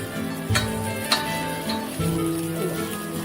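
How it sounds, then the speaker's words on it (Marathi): Stuffed bitter gourds (bharli karli) frying in a pan on a low flame, a steady close sizzle broken by a few scraping stirs and taps as the pieces are turned. "अशीच आपण उलटीपालटी करून आपण घेणार सर्व करून आपल्याला खरपूस अशी ही फ्राय करून घ्यायची"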